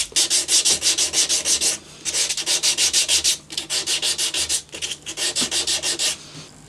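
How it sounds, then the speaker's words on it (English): Emery cloth wrapped around an abrasive rubber block sands a guitar fretboard on a parts-built Telecaster, giving rapid rhythmic back-and-forth scrubbing strokes in close, loud bursts separated by brief pauses. "Wrapping a bit of emery cloth around one of these abrasive rubbers is a great way to work."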